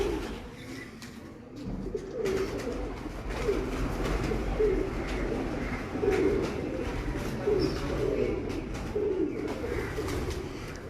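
Breeder pigeons of the daku type in Kasur coo steadily in a repeating, rhythmic pattern at close range, with a low background rumble and no talk.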